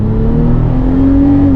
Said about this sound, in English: Let's see how this Toyota does from standstill.